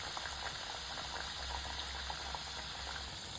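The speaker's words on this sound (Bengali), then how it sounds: "এরপর নিমকিগুলোকে সাদা তেলে ভেজে নেব" Mung dal nimki frying in moderately hot white oil, a dense, even bubbling hiss held steadily for a few seconds with no talking.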